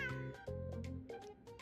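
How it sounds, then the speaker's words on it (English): A cat in the video game Honkai: Star Rail gives a short series of clear, close meows, several quick calls in a row with no other sound around them. "Dozing meow."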